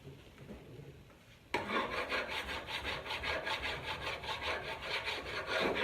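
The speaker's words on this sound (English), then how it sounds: "I used only the palette knife to distress with the water, the wet distressing" Steady rough scraping of a metal palette knife against chalk-painted wood, wet-distressing the paint, repeated strokes in a quick rhythm after a quiet start, close and fairly loud.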